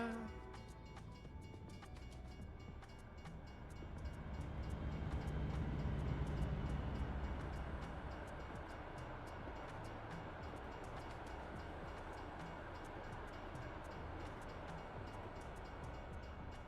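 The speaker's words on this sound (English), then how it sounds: "there's a train. Why wouldn't there be?" A train rolls past at a crossing in American Truck Simulator, a steady rumbling wash that swells in the middle and then settles, heard from the cab at moderate distance with no talk over it.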